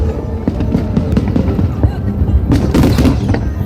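Fireworks explode over Hong Kong harbour during a large public display, a dense run of loud, sharp bangs and booming bursts in quick, irregular succession, with crowd noise underneath.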